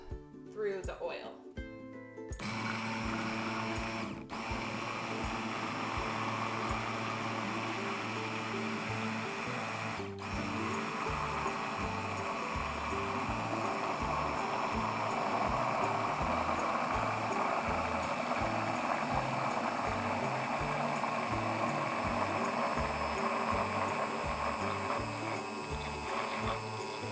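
An immersion blender runs through oil while making homemade mayo, a loud, steady motorized whir lasting nearly half a minute after a brief rattling start-up, with a couple of short knocks and a voice talking over it.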